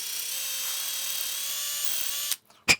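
A drill bit spins steadily into an AEG airsoft replica's body to route a cable, a close continuous whine lasting about two seconds before stopping, followed by a couple of short clicks and a sharp knock.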